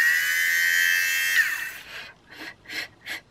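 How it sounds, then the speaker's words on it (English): An electric fabric shaver hums steadily while removing lint from clothing, then cuts out and gives way to several short buzzing passes, loud and close. "This is a fabric shaver."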